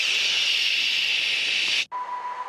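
A voice imitates white noise with a long, steady, loud shushing hiss lasting nearly two seconds, close up, then cutting off abruptly into quieter room sound.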